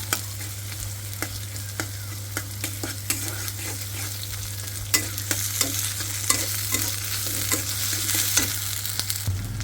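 Ginger-garlic paste fries in a pan with a steady close sizzle, stirred throughout by repeated sharp scrapes and taps of a utensil, all over a constant low hum.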